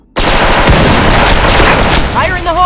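A grenade blast in a video game bursts in loud and near, a dense roaring wall of explosion noise that rumbles for over two seconds, with a voice shouting over the tail.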